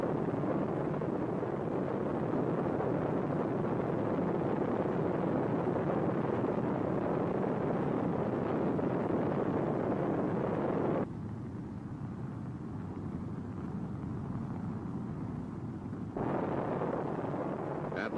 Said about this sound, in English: the Atlas launch vehicle ignites